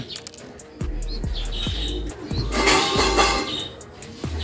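Young pigeon squabs chirp in short, repeated high peeps close by, mixed with soft thumps and rustling, and a brief flutter of wings partway through.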